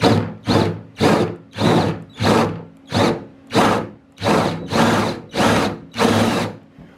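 Power drill with a wood bit boring into a plastic grey water tank, nine or ten separate loud whirring bursts in a steady rhythm, each rising and cutting off, close up and without talk.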